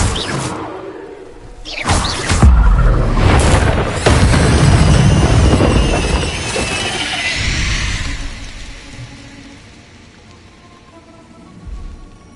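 A spell cast in Hogwarts Legacy, Compulso, opens with a sharp whoosh and deep boom, then a long rushing, rumbling swell that slowly fades, with a small thump near the end and no talking.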